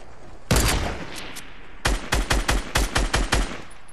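Gunfire in the video game Fortnite: one sharp burst, then after a pause a rapid string of about eight loud, evenly spaced shots, close and punchy.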